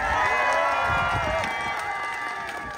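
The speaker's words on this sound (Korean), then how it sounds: "여러분 박수와 함성 보내주세요" Festival crowd at an outdoor summer beach concert in Haenam cheers and applauds for a singer, a dense, continuous wash of clapping and shouting that slowly eases over a few seconds.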